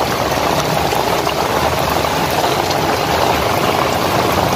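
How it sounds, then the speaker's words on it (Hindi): Very heavy rain falling in Karachi, a dense, steady, loud roar of downpour that holds constant without pause and with no talk. "या अल्लाह पाक ये बारिश हमारे लिए रहमत है"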